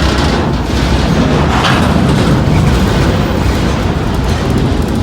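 A mile-and-a-quarter-long freight train, about 6,600 feet, rumbles past on tracks running down a main street, a loud, steady, continuous low roar with no break.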